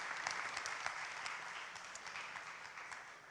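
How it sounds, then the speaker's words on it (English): An audience at a conference panel session applauds the panelists, a soft, distant, steady patter of many hands that slowly fades. "So please give them a round of applause."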